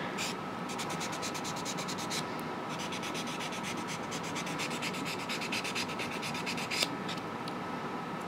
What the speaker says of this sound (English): If you feel any bumps, just sand it a little bit more.